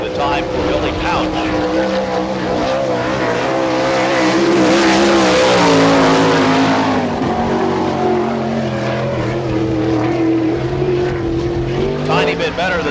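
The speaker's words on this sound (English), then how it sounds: "On the racetrack, the car number 38, a Florida driver, Al Wilson." Race car running laps on a dirt oval at a Barberville, Florida All Star Circuit of Champions Speedweek event, its loud engine roaring and swelling past midway, with an announcer talking over it.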